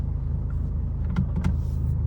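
A Mercedes-Benz idles in park after engine-removal repair work, with a heavy, low, continuous rumble of engine vibration. Faint brief clicks or whirs sit on top of the drone.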